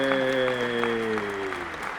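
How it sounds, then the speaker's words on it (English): Audience clapping in a theatre setting, a steady two-second burst of applause with a faint background tone, no one speaking. "Everybody, please do give them a round of applause for their accomplishment."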